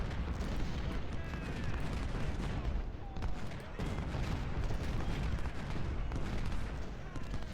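Troops exchange musket gunfire in the Civil War strategy game Ultimate General: Civil War, a continuous rumbling crackle of volleys with sharp individual shots scattered through it, heavy and sustained.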